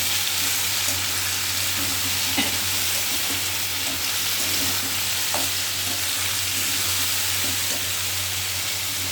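Frying in a pan, stirred now and then after salt goes in, with a steady close sizzle and hiss throughout and a few soft scrapes of the spoon; no talking.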